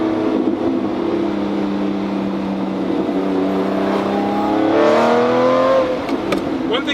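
A Lamborghini movie car's engine revs and rises in pitch, its note echoing off nearby trees through an open window, loud and sustained with a climbing whine toward the end.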